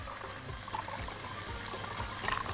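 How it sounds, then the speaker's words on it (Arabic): Ice-cold water trickling and pouring into a gelatin mixture while making ice cream sticks and jelly, a steady close splashing stream with small gurgles throughout. "ادي ميه متلجه اهي، ابتدي احط ايه نص كوبايه كمان."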